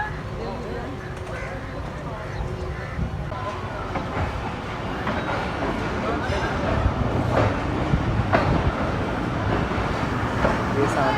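The 18 Down Millat Express pulling out of Chak Jhumra Junction in Pakistan, a continuous rolling rumble of wheels and carriages with faint clatter, steady and fairly loud throughout with no talk.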